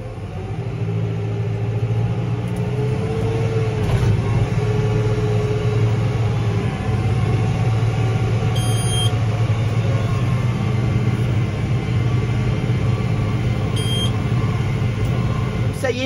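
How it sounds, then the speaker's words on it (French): A McCormick X7.417 tractor engine running steadily while being driven, a continuous low rumbling drone with a faint whine on top, a few brief electronic beeps, close and constant. "Et on va essayer le tracteur, on est parti là."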